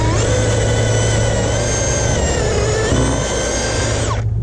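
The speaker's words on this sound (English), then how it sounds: "Drill holes." A power drill bores holes in an outdoor shop build, its steady loud whine holding constant for about four seconds before cutting off abruptly at the end, with no talking over it.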